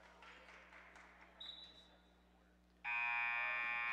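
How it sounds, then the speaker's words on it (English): Basketball arena buzzer at a high school girls' game sounding suddenly after a quieter gym murmur, a loud steady electronic drone that holds to the end. "for some reason the buzzer goes off"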